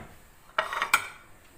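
A utensil clinks twice against a bowl as spices are stirred into a fish tagine marinade, two short close scraping knocks in a quiet moment.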